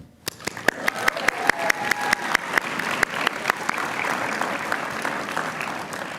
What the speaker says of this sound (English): I'll need more applause as I go